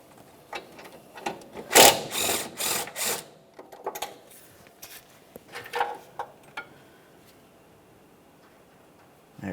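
A ratchet works a 13 mm mounting bolt loose on a 2007-2017 Jeep Patriot, giving close bursts of quick clicking and a few scraping knocks, then quieter scattered taps.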